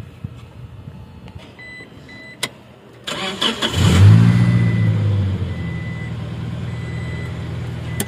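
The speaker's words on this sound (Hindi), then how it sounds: "चलिए भाई स्टार्ट करिए गाड़ी अभी।" A car engine, after a clunk and a short electronic beep, cranks and catches, then revs up loudly before settling into a steady idle, close by and heard alone.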